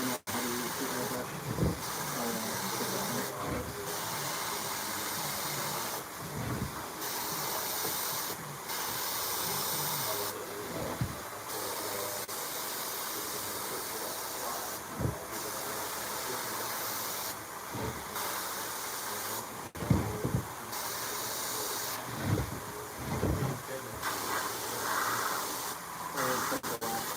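An airbrush sprays black paint while work is done on a mask, giving quiet, repeated short bursts of hissing air with pauses between them. Faint background sounds run underneath.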